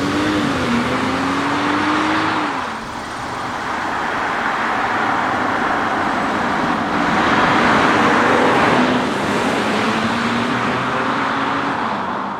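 A 2026 BMW 540i sedan on the road, heard as a loud, steady engine drone with tire and road roar, the engine note rising and falling through gear changes.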